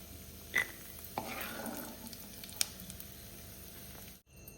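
Grated ash gourd frying in a pan for halwa, a soft, low sizzle with occasional spatula scrapes and a couple of clinks, close and quiet, no talk.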